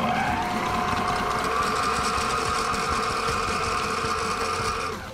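A sewing machine stitching catamaran canvas gives a continuous fast mechanical whir with a rapid needle rhythm, loud and close, slowing slightly at the very end.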